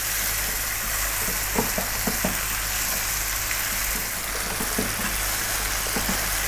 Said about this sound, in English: we're going to continue cooking on this vibrant heat for another 5 minutes. Let's get those onions cooked down a little bit.